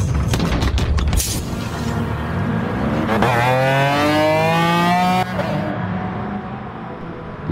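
In Gran Turismo Sport, a race car roars into the pits with loud engine noise and a booming thump, then a strong rising whine as it revs and shifts before the sound thins out, with no voices.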